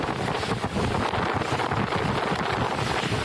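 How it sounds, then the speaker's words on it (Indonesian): Powerful gusts sweep across vendor tents at a festival site in Mamuju, a loud, continuous buffeting roar with heavy wind rumble on the microphone. "Angin kencang tiba-tiba menyapu sejumlah tenda UMKM milik warga hingga membuat panik."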